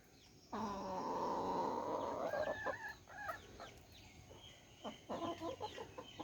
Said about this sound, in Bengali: এখানে কিছু দেশি মুরগি আছে